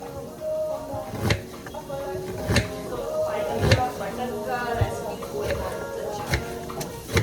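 A small knife chopping onions on a board, with sharp irregular knocks roughly every second, close and clear over a continuous voice talking.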